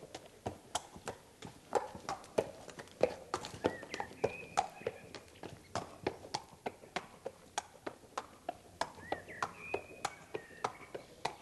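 Steady clip-clop of a shod horse's hooves walking on a hard surface toward the listener during a farrier's shoeing assessment, with a regular, even rhythm of close, crisp strikes continuing throughout.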